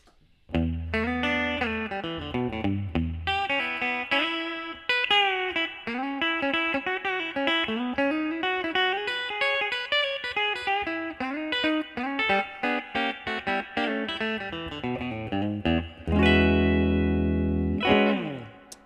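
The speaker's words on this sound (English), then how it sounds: "I'm playing through a 73 Fender Vibrolux Reverb today." Electric guitar played through a 1973 Fender Vibrolux Reverb tube combo amp, a melodic classic country line of clean, slightly driven notes with reverb, ending on loud sustained chords.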